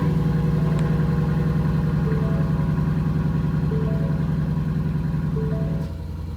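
A 2019 Mustang GT with a Corsa Extreme active catback exhaust cold-starts in normal mode, settling into a loud, deep, steady rumbling idle with a few small rev blips before dropping quieter near the end.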